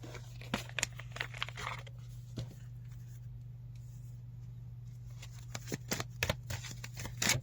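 Intuitive oracle cards being shuffled, soft quick riffles and flicks in short bursts at the start and end with a quieter stretch between, close and faint over a low steady hum.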